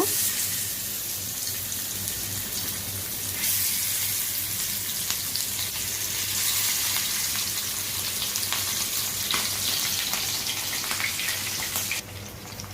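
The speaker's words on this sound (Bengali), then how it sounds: "আমি এখন এই তেলের মধ্যে ভেজে নিব" Chapila fish frying in hot mustard oil in a wok, a steady loud crackling sizzle that intensifies partway through and carries on without talk.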